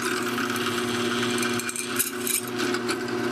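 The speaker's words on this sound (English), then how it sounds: "I can just drill a hole in it" A steady mechanical whine of a drill press running close by, with faint grinding and rattling as the bit cuts a hole into a metal pocket clip held in a vise.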